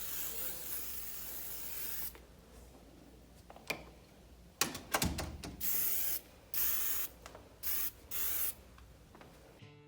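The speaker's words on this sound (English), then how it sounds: "I use some Lysol spray on the door handles and on the door." Lysol disinfectant spray hisses onto door handles and a door in short aerosol bursts, several separate sprays of about half a second each with brief pauses, close and moderately loud over faint room noise.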